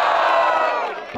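A rap battle crowd roars and cheers for Black Panther in a brief, loud burst of many shouting voices that fades quickly.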